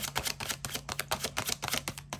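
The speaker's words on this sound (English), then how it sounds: "I'm just going to go ahead and do a quick shuffle." A deck of tarot cards is shuffled by hand up close, giving a steady run of quick, crisp flapping clicks with no speech.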